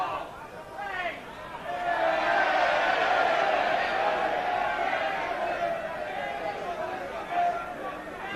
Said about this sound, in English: A good atmosphere now, the crowd really enjoying this game.